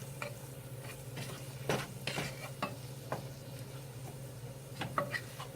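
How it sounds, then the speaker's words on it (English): Oxtail and onion browning in a pan give a quiet, steady sizzle, broken by occasional scrapes and clinks of a utensil stirring the meat. "let the oxtail and onion just brown for a few minutes"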